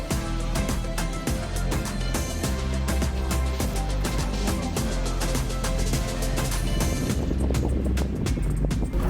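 Loud boat engine roar with wind buffeting the microphone and rhythmic thumping, as if the hull slaps across choppy water.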